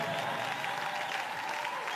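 Congregation applauding in a church service, steady dense clapping filling the room, with a faint murmur of voices underneath.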